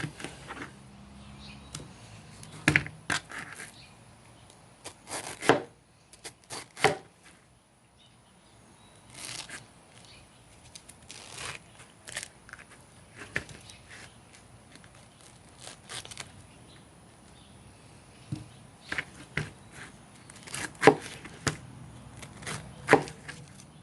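A Becker BK-18 knife chopping through food in an edge retention test, with irregular bursts of sharp cutting and crunching strikes and quiet gaps between them, heard close over a faint outdoor background.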